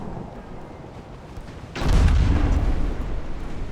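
A bow torpedo strikes a ship in Ultimate Admiral Dreadnoughts with one sudden, loud, deep explosion partway through, which then rolls on as a heavy rumble above a quieter background of naval battle noise.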